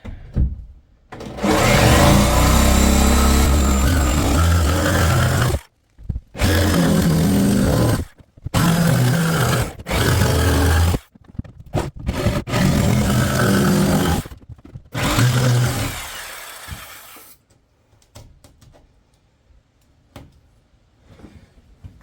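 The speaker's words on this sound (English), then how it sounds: "now we can start the jigsaw hole there and saw all the way around" A jigsaw roars loudly in repeated long bursts with short pauses between, grinding through a shed wall up close to cut a window opening, before trailing off into quiet rattling.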